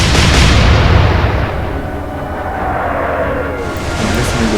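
Naval gunfire in the Atlantic Fleet video game, a loud heavy blast at the start that rolls off into a long rumbling decay.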